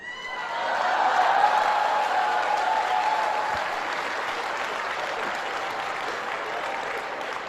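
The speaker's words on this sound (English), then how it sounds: "Notice how all the women are laughing and clapping." Audience at a talk breaking into applause mixed with laughter, swelling quickly to a full dense clap and holding steady as it slowly thins.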